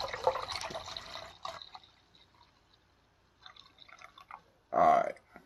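A bee powder drink poured into a glass, with a quiet liquid trickle and splashes, ending in a short, louder burst of filling near the close, after fading speech at the start.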